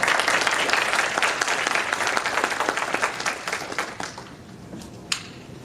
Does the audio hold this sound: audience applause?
yes